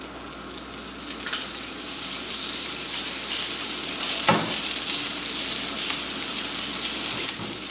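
A tablespoon of butter melts and bubbles in a hot pan, a steady close crackling sizzle with occasional sharper pops, continuing evenly throughout.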